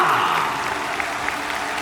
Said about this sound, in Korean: 우리 이대호 선수에게 더욱더 뜨거운 박수를 부탁드리겠습니다